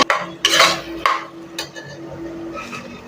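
Cut potato pieces tipped into a pot of masala and stirred with a metal spoon, a few close scraping clatters and clinks over a faint sizzle.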